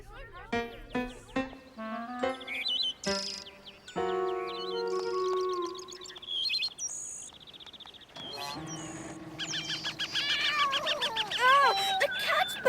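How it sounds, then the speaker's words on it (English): Cartoon cat meows in a stretch of mixed animated-show sound, with tonal cues, chimes and bird-like chirps around it; the calls come as several short bursts over busy background music and effects, with talk heard elsewhere in the clip. "The cat's back!"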